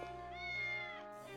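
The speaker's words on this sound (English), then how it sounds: "Cat." A cat in the video game Triangle Strategy lets out a single clear, rising-then-falling meow, close and distinct over a quiet musical backdrop.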